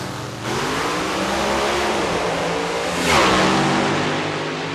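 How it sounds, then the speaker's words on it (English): An alcohol dragster engine roars loudly down the drag strip at a Pioneer Keystone Nationals race in Reading, PA, a sustained near, powerful drone that swells brighter toward the end. "the Bars Lakes car powers its way into the semifinals"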